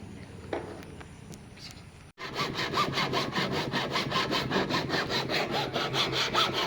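Sawing cuts through a plastic container for a garden, starting after a brief quiet stretch with faint clicks and then running as a fast, steady, rasping back-and-forth stroke, close and alone.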